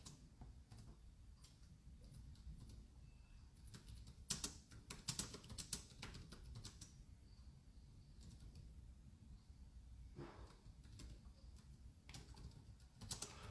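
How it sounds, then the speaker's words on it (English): Typing on a computer keyboard, a steady run of quiet, fast clicks lasting the whole stretch with a few louder key strikes, heard alone without talk. "That's a lot of typing."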